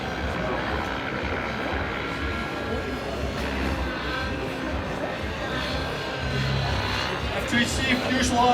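X-Cell radio-controlled model helicopter performing small hurricane manoeuvres at a Rotorlive demo, its rotor and engine whine continuous and steady at moderate distance, with people talking over it.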